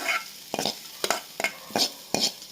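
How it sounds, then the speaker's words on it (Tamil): Mustard seeds and onion fry in oil in a pan, with a soft sizzle under repeated near scraping stirs at an even rhythm. "கடுகு பொறிஞ்சதும் ஆனியனை சேர்த்துக்கலாம் இந்த அளவு லைட்டாக வதக்குனா போதும்"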